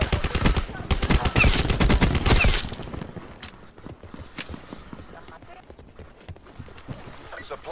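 Rapid bursts of gunfire in a battle-royale video game on the Alcatraz map, dense and loud for the first few seconds, then sparser distant shots and clicks under game noise.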